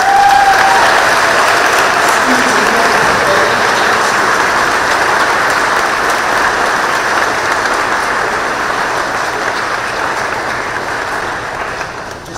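A school audience applauding its 5th grade teaching team at a promotion ceremony, loud sustained clapping from a large crowd that slowly fades toward the end.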